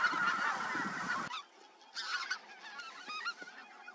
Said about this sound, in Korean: 두루미들의 울음소리와 더불어 청둥오리 기러기들의 울음소리로 철원 일대의 농경지와 저수지는